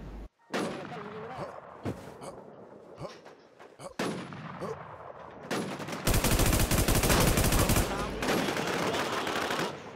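Gunfire in the Warz shooting game: scattered single shots early, then a dense sustained burst of automatic fire in the second half, fairly loud, with brief voices between shots.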